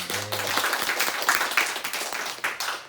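A church congregation gives a warm round of applause, dense steady clapping with no talk over it.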